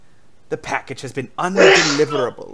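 A roommate sneezes in the background, a single loud, breathy burst that cuts across and partly overlaps a person speaking close to the microphone.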